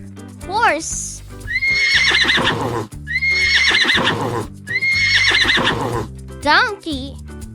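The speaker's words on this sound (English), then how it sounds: "Horse." Three long, loud horse whinnies ring out one after another over light background music, with a voice speaking briefly at the start and again at the end.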